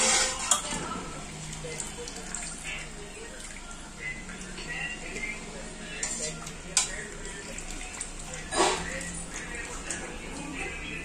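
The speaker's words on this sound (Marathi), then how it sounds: "मसाला परतून घेते" Masala and dal sautéed in a pan on low gas give off a steady sizzle, broken by the scrape and clink of a spoon against the metal pan, and a voice talks intermittently over the cooking.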